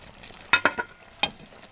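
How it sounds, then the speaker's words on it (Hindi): Shakarpara pieces are stirred in thick sugar syrup in a pan over a medium flame, giving a few sharp close clinks and scrapes of the spoon against the pan over a faint sizzle, with no talking. "मीडियम फ्लेम पर हमने 2 से 3 मिनट के लिए इसी शीरे के अंदर इनको पकाना है"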